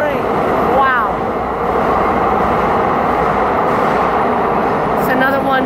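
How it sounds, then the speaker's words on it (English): New San Francisco Muni light rail trains passing back to back, a loud continuous rumble and rolling wheel noise with brief squealing tones near the start and end. "Oh, back to back new trains."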